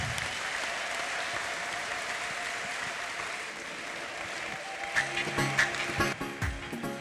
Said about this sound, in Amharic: ከዚህ በላይ እልልታና ጭብጨባ ይሁን